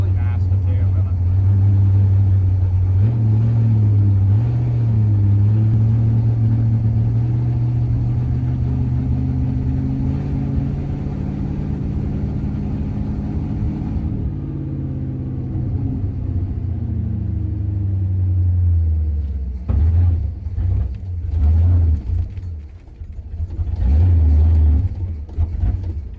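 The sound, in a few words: 1966 Oldsmobile 88 425 big block engine revving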